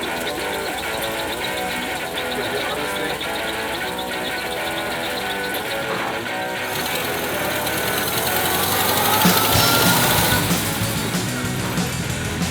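Antique school bus engine running steadily on Michigan countryside grounds, a continuous low rumble with a slight rise in level toward the end, no talk over it.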